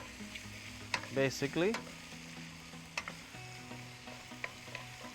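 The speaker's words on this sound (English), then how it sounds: "you're just gonna fry this up like this, like a fried noodle" Tulip canned pork and wide chow fun noodles fry and get stirred in a pan, a steady low sizzle with a few sharper scraping bursts early on and faint clicks later; a brief word of talk slips in.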